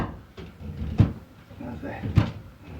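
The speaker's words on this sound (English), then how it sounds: "Just want to change the door around here as I make it to my magnets." A snake enclosure door is shifted and set onto magnets, giving two sharp knocks and some soft scraping and rustling close by, with someone talking quietly.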